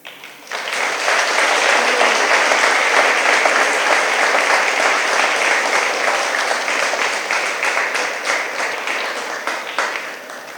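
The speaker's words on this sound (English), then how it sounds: "Please give an applause to the Winter Hill class of 2024." A school moving-on ceremony audience applauds the eighth-grade graduating class, a dense, loud roar of many clapping hands that swells quickly after a brief start, holds for about ten seconds, then begins to thin slightly at the end.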